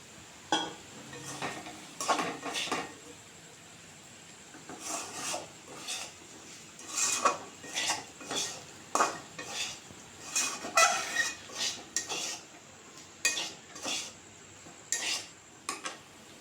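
A spatula scrapes and clinks in a pan as fried potato, egg and chicken are stirred together for chicken noodles, with bursts of metallic scraping in uneven clusters over a faint background.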